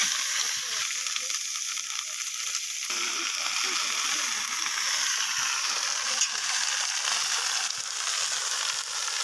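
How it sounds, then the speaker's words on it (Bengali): Fish, some with roe, frying with turmeric and salt in a pan during village cooking, giving a continuous, fairly quiet sizzling hiss with small crackles and no pauses. "এবার হলুদ লবণ এগুলো দিয়ে মাছগুলো ভাজি করা হচ্ছে"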